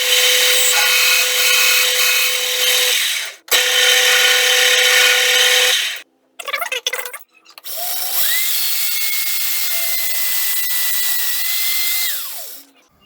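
Drilling a precise hole in metal on a lathe with a 9.5 mm drill bit; a steady loud whine runs for several seconds, pauses, resumes, then after a brief break a rising motor tone holds before stopping.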